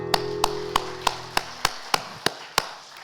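About nine evenly spaced, sharp unison claps from a Korean church congregation during a Sunday service, ringing over a faint sustained organ-like tone that fades out.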